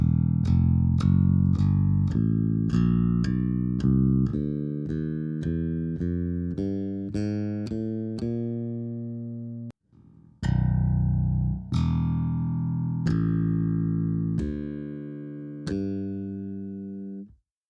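Strandberg Boden bass plucked one note at a time in a steady sequence of open and fretted notes, each note ringing and decaying, clear and close, with a short pause before a second run of slower notes.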